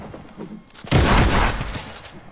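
Gunfire in the Fortnite video game: a sudden loud burst of shots and booms hits after a quieter stretch, then rolls on with rapid crackling reports, with a player's voice faintly in the background.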